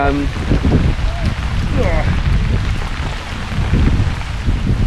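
Rain falls steadily on a fishing swim at a lakeside feeder match, a dense close patter with gusty rumble from wind on the microphone throughout.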